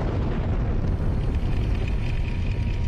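Explosion and fire on the Piper Alpha offshore oil and gas platform in 1988, caused by liquid gas leaking from faulty pipework. A loud, continuous, rumbling roar runs unbroken throughout, with no voices.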